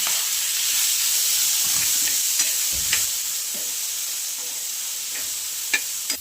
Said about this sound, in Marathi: अद्रक आणि लसूण टाकला मी टोमॅटो टाकून घेऊयात आपण